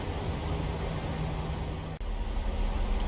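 An aircraft engine drones steadily in flight as the plane climbs, a constant broadband roar with a low hum under it and one brief dip partway through.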